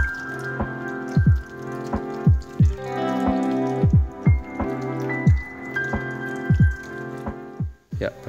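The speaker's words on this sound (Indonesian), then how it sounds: "bagian belakang juga airnya mengalir tanpa basah" Water poured over the back of a Triple F waterproof outdoor jacket, pattering and dripping in rhythmic bursts close by.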